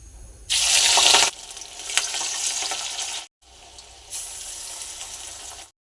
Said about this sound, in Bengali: মাছের বড়া ভাজা রেডি